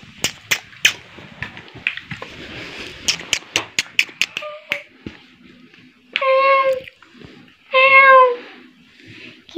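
A cat gives two long, loud meows near the end, after a burst of sharp clicks, taps and rustling handling noises close by.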